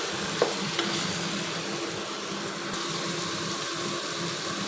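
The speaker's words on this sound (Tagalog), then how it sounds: "Halo-haloin lang natin siya hanggang maluto ng gusto yung kamatis." Tomatoes and masala frying in a pan make a steady, close sizzle, with a couple of light stirring knocks early on and no talking.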